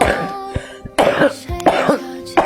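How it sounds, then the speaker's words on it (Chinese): An elderly woman, a heavy smoker, coughs in a rural home, several harsh close coughs and throat clearings in an irregular burst, alone without talk. "这在外边就听见你咳嗽了"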